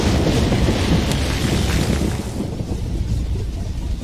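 Lightning Storm superweapon from Yuri's Revenge unleashing a broad, loud rumble of thunder and rain-like crackle, steady for a couple of seconds then easing slightly but persisting, no voices.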